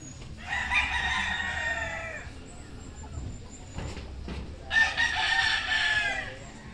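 A rooster crows twice in a backyard, loud and close, each call long and drawn out, with a low farmyard rumble underneath.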